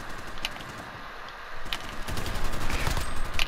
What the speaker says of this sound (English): Don't worry about those first dozen shots.